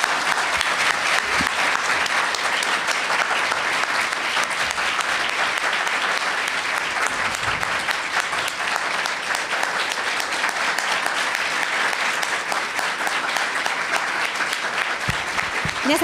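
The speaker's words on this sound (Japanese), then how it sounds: "もう一度最後に皆さんに拍手をお願いします" A seated audience gives sustained applause at the close of a Tohoku recovery discussion event, an even, dense clapping that continues unbroken for the whole stretch.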